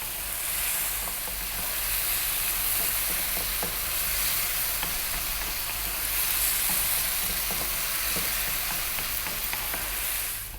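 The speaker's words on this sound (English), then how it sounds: "while those mushrooms are cooking" Mushrooms with cumin and chili powder fry loudly and steadily in a pan over above-medium heat, a dense continuous sizzle broken by occasional stirring clicks, and no voices.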